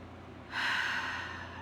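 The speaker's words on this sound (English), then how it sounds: "So a couple of nice deep breaths." A slow, deep breath drawn in during a guided morning breathing exercise, starting after a short quiet and lasting about a second, close and soft, with no talk over it.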